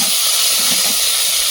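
Ginger paste is dropped into a little hot oil in a pan after fried lentil dumplings are set aside, giving a loud, continuous close-up sizzle and hiss.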